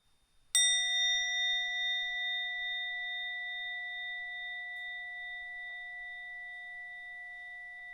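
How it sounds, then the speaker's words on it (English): A mindfulness bell is invited during Zen practice, one clear strike that rings out and then hangs in a long, slowly fading tone while the room stays silent. "invite the sound of the bell, and let's breathe together"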